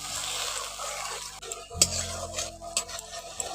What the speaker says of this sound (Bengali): জলটা দিয়ে ভালো করে একটু কষে নিচ্ছি